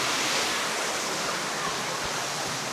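A large waterfall swollen by weeks of rain on the mountain trail to Shizhu Peak in Hunan, roaring as a dense, loud, unbroken rush of falling water.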